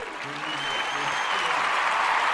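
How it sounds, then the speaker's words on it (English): A room of people applauds a special guest on a rowdy hip-hop web show episode, with steady dense clapping that rises and holds throughout, and some voices and whoops mixed in. "Can we get a round of applause for our special guest, SICKO Soldado, in this bitch?"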